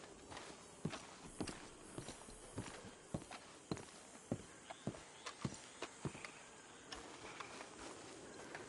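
Horses walk at a slow, uneven pace, hooves clip-clopping in a steady stream of distinct strikes, fairly faint and with no talk over them.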